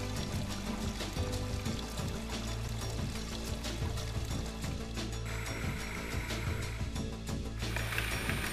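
Water pours and splashes as plastic food processor parts are rinsed clean, a continuous, fairly faint stream of running water with small clatters and knocks from the pieces being handled.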